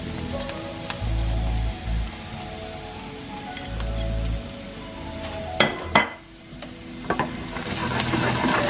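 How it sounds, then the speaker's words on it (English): Paprika, chili, onion and ginger powder sizzling in hot oil for Vietnamese spicy beef noodle soup, a steady close crackle with occasional stirring scrapes and low thumps. "Since the oil is nice and hot, we can go in with our spices."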